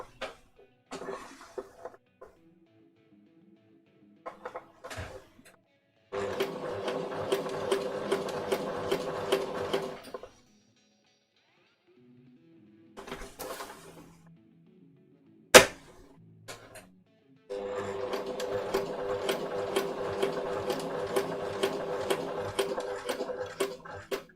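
A sewing machine stitches a shirt placket in two long, steady runs of fast, even needle rhythm, separated by quiet pauses with scattered clicks and handling noises.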